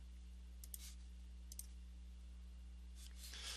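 Mouse clicks while using an eyedropper tool for a color key, a few sharp isolated clicks spaced apart over a low steady electrical hum.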